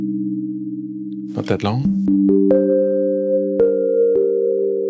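A held sine tone from a Nonlinear Labs C15 synthesizer with reverb rings steadily, then shifts through a few stepped pitches after someone speaks briefly over it, with the reverb tail lingering.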